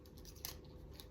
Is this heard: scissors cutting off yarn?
yes